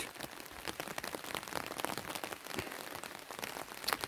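Steady rain patters on a surface, dense and continuous with scattered louder drops, fairly close and with no voices.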